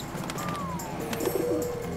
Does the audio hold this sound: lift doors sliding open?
no